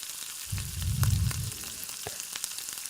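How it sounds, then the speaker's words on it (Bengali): Ginger garlic paste hits reddened onions frying in oil, giving a brief soft swell of sizzling that fades into a quiet steady hiss with a few faint clicks, close up and alone. "পেঁয়াজটা লাল লাল করে ভাজা হয়ে গেছে, ওই জন্য আদা রসুনের পেস্টটা দিয়ে দিলাম ওর মধ্যে"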